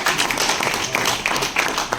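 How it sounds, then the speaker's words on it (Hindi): A mushaira audience breaks into brief, steady applause, a dense wash of many hands clapping together at an even level. "दोस्तों इनके लिए एक बार तालियां बजाएं"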